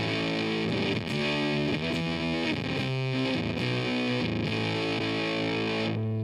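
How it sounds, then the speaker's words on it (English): An electric guitar plays a riff through an overdrive pedal pushed toward a fuzz-like distortion, steady, dense and loud for the whole stretch with no pauses. "So push almost gives it a fuzz effect."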